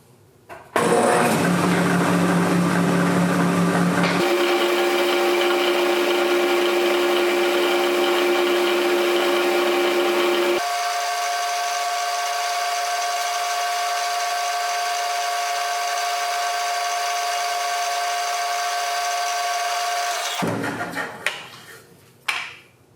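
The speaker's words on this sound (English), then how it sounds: "Then we're gonna drill it out to a number 8." A drill bit boring a hole on a Rockwell milling machine, drilled out to a number 8 size. A steady, loud motor whine and cutting drone runs for about twenty seconds, shifting pitch twice, then winds down.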